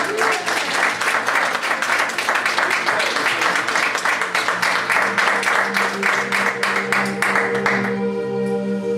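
Sustained, even applause from an audience at a hypnosis show fills the room, with a voice coming in near the end.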